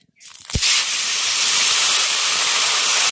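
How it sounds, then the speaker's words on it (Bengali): Water poured into a wok of sugar sets off a sudden loud, sustained hissing rush of steam and spray that starts abruptly and holds at full strength to the end, with no talking. "এবার এর মধ্যে দিয়ে দেব জল"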